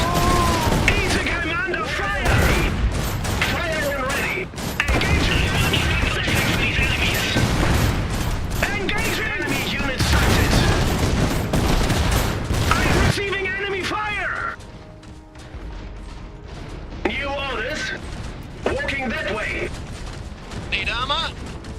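Bursts of gunfire and explosions from the video game Iron Harvest roar loudly and almost without pause, thinning out briefly near the end, with unit voice lines cutting in over the battle.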